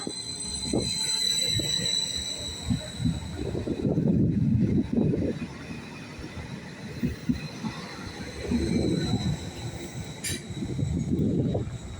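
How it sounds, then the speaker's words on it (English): Greater Anglia Class 755 unit passing through Stowmarket station on an Ipswich to Peterborough service: steady rumble and rolling wheel noise, with rhythmic thumps over rail joints and a faint high squeal, heard from the platform. "Here goes 755-409 on a Great Anglia service from Ipswich to Peterborough."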